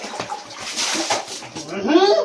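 Water splashing and sloshing during a child's bath, short irregular splashes up close, with a voice and an adult speaking over them.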